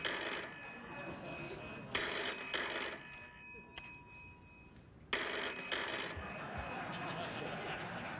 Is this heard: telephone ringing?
yes